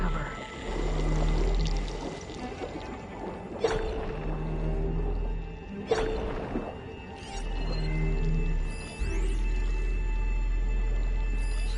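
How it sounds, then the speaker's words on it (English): Muffled underwater swimming in Horizon Forbidden West, with machines lurking nearby: a steady low rumble and watery wash, broken by a few sharp clicks and splashy bursts, with no talking. "I'll swim around them."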